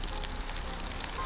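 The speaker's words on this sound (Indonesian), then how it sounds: "yang mana api unggun itu nggak bisa mati karena air hujan" Campfire crackling and hissing in falling rain inside a Minecraft-style block game, a steady dense wash of fizzing noise with no break across the short span.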